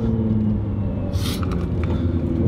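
A Nissan GT-R engine fitted with an MH Pipes motorsport exhaust rumbles steadily and deeply, with a short breathy burst partway through.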